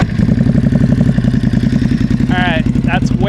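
A 2025 Ducati Hypermotard engine, fitted with an SC Project CR-T exhaust and db killers, idles loud and close with a steady, lumpy rhythmic beat; a brief whistle-like chirp cuts in near the end.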